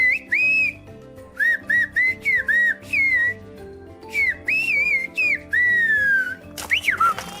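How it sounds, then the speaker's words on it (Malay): Melodic whistled phrases in short bursts with pauses, rising and falling pitch like a whistled language, over a low murmur of background noise. "makcik ni boleh suruh suami dia beli sayur di pasar hanya dengan bersiul"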